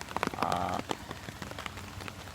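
Rain patters steadily on a hard surface nearby, with scattered sharper drips and a brief tonal hum early on.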